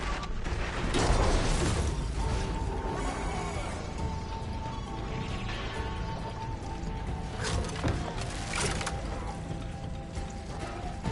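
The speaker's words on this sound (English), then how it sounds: "More machines are coming!" Robotic machine creatures close in during Horizon Forbidden West, a steady churn of whirring, clanking and ratcheting mechanical noise with occasional heavy crashes under a thick ambient bed.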